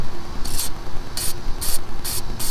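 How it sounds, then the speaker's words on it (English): Rust penetrant sprayed through a nozzle onto parts under the hood of a Chevrolet Tahoe Z28/SS: four short, evenly spaced hissing spritzes, close and crisp over a steady background rumble. "So let's spray it. As you can see, I've got the spray nozzle in it, and you just go lightly coat it."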